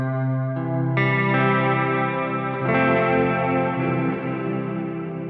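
Guitar chords ringing through a Meris Mercury X reverb pedal, sustained notes swelling into a lush, washy tail, with the chord changing a few times and no voices.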